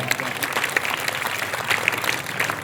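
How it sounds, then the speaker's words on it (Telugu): Loud, continuous clapping from a church audience during a Lent season gathering, dense and sustained with scattered sharper claps throughout. "చప్పట్లు కొట్టండి గట్టిగా"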